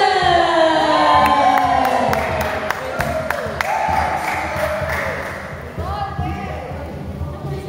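An audience claps and cheers for Golden at a church youth devotional-writing contest, the crowd noise full and sustained with scattered sharp claps and shouts, and a voice carrying over it.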